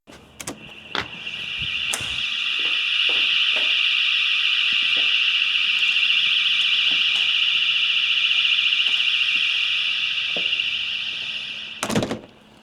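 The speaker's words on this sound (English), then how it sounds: "There is a full-blown alarm going on in there, and I'm standing right outside the home, and you don't even know it." A full alarm going off inside a Palm Beach, Florida new-build home, heard from just outside through impact windows: a steady, muffled high-pitched tone held for about ten seconds, bracketed by a few door thunks and clicks at start and end.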